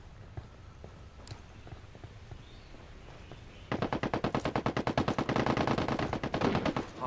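Heavy automatic gunfire in the shooter game Ghost War. A quieter stretch of scattered shots gives way to a long, loud, rapid burst of rhythmic machine-gun fire in the second half.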